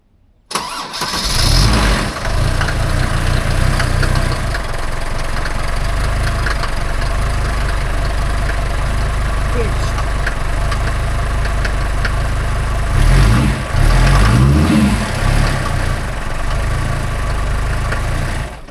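A Mercedes 310D Luton van's 2.9 litre five-cylinder non-turbo diesel starts up and settles into a loud, close, steady rumble, swelling briefly with a couple of revs near the end and then idling on alone.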